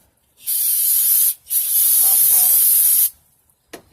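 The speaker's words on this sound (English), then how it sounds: "Spray them off." Two loud, close hissing bursts of aerosol parts cleaner sprayed on engine cam caps, a short one followed by a longer steady blast, then a faint click.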